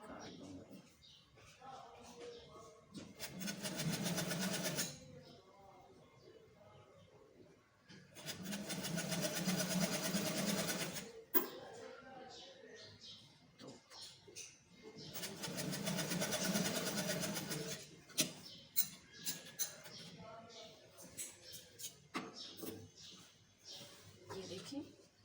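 Sewing machine stitching a frill onto a pair of trousers, running in three long bursts of loud steady whirring separated by quieter pauses with handling noises.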